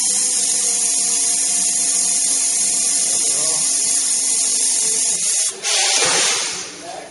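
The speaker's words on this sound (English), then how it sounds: "That's done by it's like an air machine that rotates, screws the back block onto the right pressure." A pneumatic rotating tool whirs steadily as it screws the end block onto a Weihrauch air rifle in a German factory, a close, continuous buzzing drone that cuts out briefly and then returns with a louder hiss.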